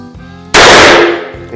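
A single loud, close gunshot from a Dan Wesson 15-2V .357 Magnum revolver, an abrupt blast with a ringing decay that fades over about a second, following a quiet low hum.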